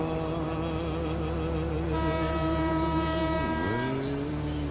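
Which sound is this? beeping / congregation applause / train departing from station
train departing from station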